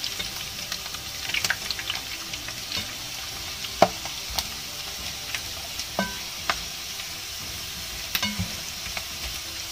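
Ginger fries in hot oil, a continuous crackling sizzle with sharp pops and occasional stirring scrapes scattered across it, close and fairly loud.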